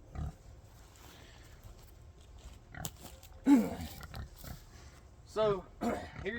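Pigs grunt and oink in a few short, low snorts at moderate distance, scattered across a steady outdoor background with people talking nearby.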